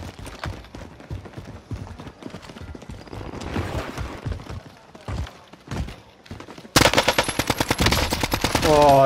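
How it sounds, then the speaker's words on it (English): Gunfire in a shooter game comes as scattered shots and thumps under players talking, then a loud rapid burst of automatic fire near the end. "Oh, I got shot by his gun."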